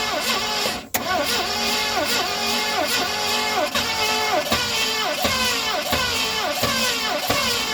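A 1970 Ford Mustang Mach 1 engine cranks over in a steady, rhythmic whirr of the starter that continues for several seconds without catching. The sound is loud and close.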